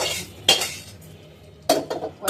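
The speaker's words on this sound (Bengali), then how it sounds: "ডালের ফোড়নটা নামিয়ে রাখি।" A pan of dal tempering is set down in a home kitchen, making two sharp metallic clanks about a second apart, followed by a few lighter clinks and rattles nearby, with no talking.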